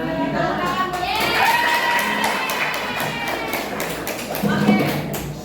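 Students in a classroom give a round of applause, a steady patter of many hands clapping mixed with voices talking over it throughout.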